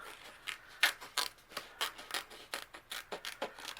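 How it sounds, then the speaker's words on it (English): Scissors make a rapid series of crisp snips while cutting around a rub-on transfer for a papercraft project, close up and alone with no talking. "So I'm going to cut around this"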